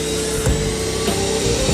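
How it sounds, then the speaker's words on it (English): Loud, continuous suction roar from an upholstery extractor pulling dirty water out of a couch, with faint rubbing and gurgling, steady throughout. "Next, use the extractor"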